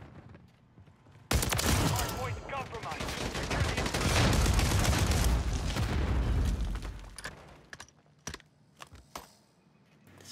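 Haymaker gun fire in the MW3 video game, with dense blasts and booms that swell for several seconds after a sharp onset. A few separate shots trail off at the end, and the firing is loud and close.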